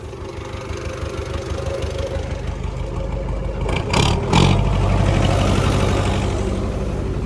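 An Arpal MK-120TP machine runs off a tractor's power take-off with a steady, loud mechanical drone and engine rumble, briefly rising in a louder surge midway before settling back to a constant hum.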